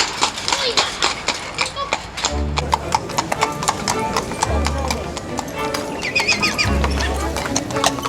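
Horses at a gypsy horse fair, hooves clip-clopping in a steady busy rhythm with several loud neighs and whinnies, crowd voices and talk running underneath.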